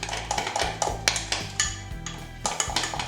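Diet chocolate lava cake batter mixed from a sachet and water, heard as quiet rhythmic scraping and tapping of a spoon against a bowl, with soft music behind and no voices.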